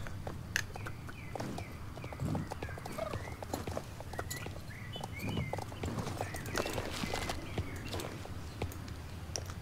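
Horse hooves walking in the online horse-riding game Star Stable Online, a faint, steady clip-clop of footsteps over a quiet background with occasional bird chirps.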